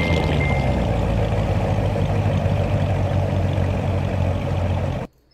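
A C7 Corvette Stingray in the Roblox game Greenville holds a steady, loud engine idle that drones evenly without revs, then cuts off abruptly near the end.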